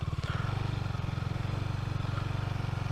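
A Husqvarna Svartpilen motorcycle rides off road through a city, its engine giving a steady, loud low throb with fast even pulsing, joined by light clatter and scraping.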